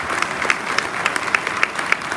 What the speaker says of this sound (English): So give Maury a big round of applause